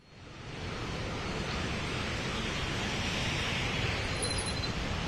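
Heavy rain pouring at KR Circle in Bangalore, a dense, continuous hiss of downpour that swells in after a brief quiet start and holds steady without talk.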